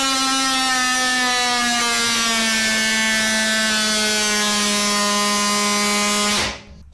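DeWalt 20V MAX XR oscillating multi-tool plunging straight down into a cut under heavy pressure, a loud steady high buzzing whine with a harmonic drone holding for about six seconds before cutting off sharply.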